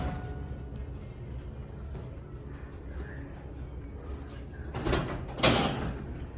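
A Schindler RT 300A hydraulic elevator door slides open with a short mechanical rumble and a brief burst of noise, following several seconds of quiet hum, inside a shopping mall.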